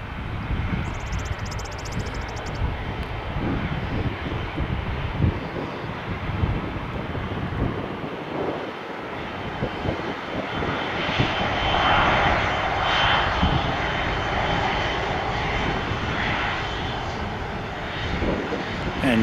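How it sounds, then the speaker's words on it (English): Airbus A330 jet airliner engines roar steadily at an airport, a loud, continuous broadband rumble and whine that swells slightly midway, with some wind buffeting and faint voices underneath. "Ooh, we got a different look at this A330."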